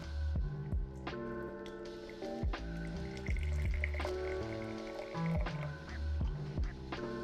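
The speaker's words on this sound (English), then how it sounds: "So it says here to add in 6 to 8 ounces of hot water" Hot water trickles and drips into a mason jar holding a coffee capsule, a quiet, close, uneven pour of irregular splashes and plinks with no talking.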